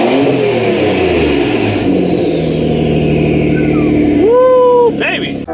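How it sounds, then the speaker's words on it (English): Nissan 300ZX twin-turbo engine revving up close, its loud engine note rising and falling, with a sharp whistling rise near the end as a voice cheers over it. "once she warms up, those turbos just make like a beautiful noise."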